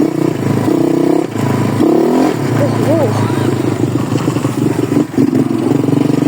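A pit bike motorcycle creeps slowly over slippery winter snow, its engine a steady close drone with small throttle changes, while someone talks over it throughout.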